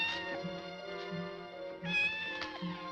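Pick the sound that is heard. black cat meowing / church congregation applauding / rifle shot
black cat meowing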